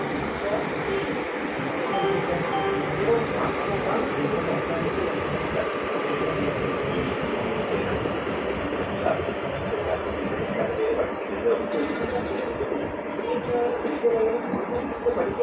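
A Kottayam–Ernakulam passenger train starts off from a station platform: a steady broadband rumble with rolling rail noise runs the whole time, a loudspeaker announcement and voices mixed in under it.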